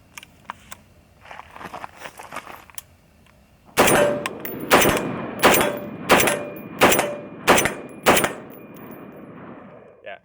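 An FN SCAR 16 short barrel rifle fires on an outdoor range: eight loud, sharp shots at a steady pace about a second apart. Soft handling clicks and movement come before the first shot.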